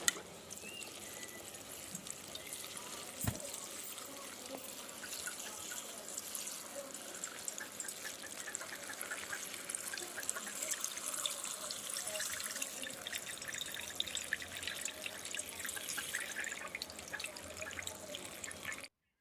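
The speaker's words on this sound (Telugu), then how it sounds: "చూడండి నేనిప్పుడు వాటర్‌తో మంచిగా కడుగుతూ ఉన్నాను." Green chillies are washed under water in a village kitchen: a steady trickle and drip of running water with faint splashes, continuous and close, with no talk over it.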